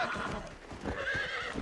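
A horse in the video game Red Dead Redemption whinnies amid clip-clopping hooves and steady in-game ambience, moderately loud and close.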